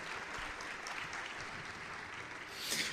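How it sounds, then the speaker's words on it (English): An audience applauds at an Iranian entrepreneurs' event, a steady wash of clapping lasting throughout and swelling briefly near the end. "applause?"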